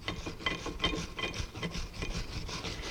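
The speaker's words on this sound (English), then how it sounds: "you want to use a little sandpaper just to clean off the rust again" Sandpaper rubbing rust off the front brake parts of a 2009 Ford Edge, quick repeated back-and-forth scratchy strokes, close and fairly quiet, with a steady rhythm throughout.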